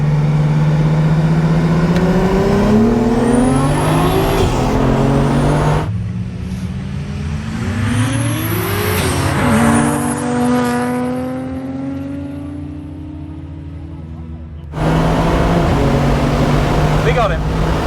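A Nissan Skyline racing, its engine revving through rising and falling gear sweeps with harmonic engine tones, loud and close, with people talking over the noise.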